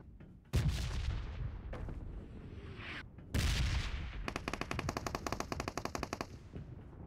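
Automatic gunfire in the mobile battle royale game BGMI, with loud bursts of rapid machine-gun shots, a heavy single blast, then a long rhythmic volley of evenly spaced shots, with no talk over it.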